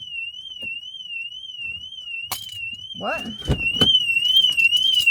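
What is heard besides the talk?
car alarm going off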